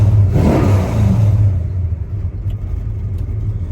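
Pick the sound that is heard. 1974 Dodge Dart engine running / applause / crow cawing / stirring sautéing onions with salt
1974 Dodge Dart engine running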